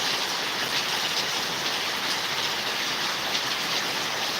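Steady rain falls over a village, a dense continuous hiss of drops striking surfaces at an even, fairly close level with no voices.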